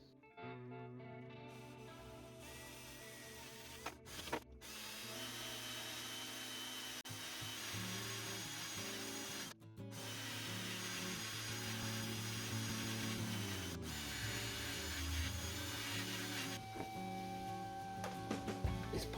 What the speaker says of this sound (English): Let's polish it up and see what we got.